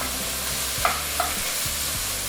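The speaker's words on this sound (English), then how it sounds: "So that's 4 medium to large cloves of garlic. Stir that up." Four medium to large garlic cloves sizzling in a pan for vegan chili, stirred with a couple of brief scrapes over a steady close frying hiss; no voices.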